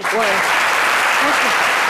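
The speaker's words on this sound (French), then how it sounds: "applaudissons un peu" Loud applause from a television studio audience fills the brief moment, with a voice rising over the clapping throughout.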